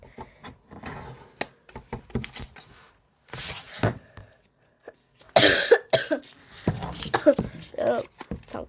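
Several short coughs and throat-clearing bursts from someone with a throat cold come between bits of quiet Korean speech, with pauses of near silence in between.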